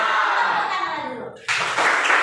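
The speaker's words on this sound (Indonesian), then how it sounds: "Tepuk tangan dulu." A classroom of students claps together in a brief burst, fairly loud and close, after a short stretch of voices, the applause starting abruptly and filling the end.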